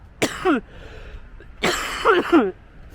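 A person with cystic fibrosis coughs during a 10-mile tempo run, two separate bursts of harsh, chesty coughing close to the microphone with a short pause between them.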